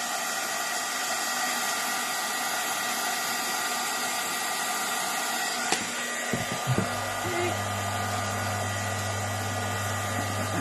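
Heat gun blowing hot air onto a decorated candle, a loud steady whooshing drone that holds throughout, with a few small knocks and a brief change in pitch toward the end.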